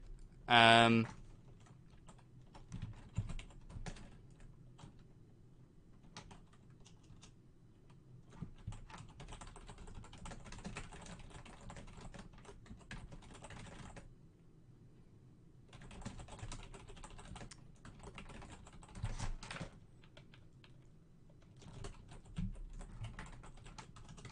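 Fast typing on a computer keyboard: a steady stream of light, close clicks and taps that runs for about twenty seconds, with brief pauses and a faint low background murmur.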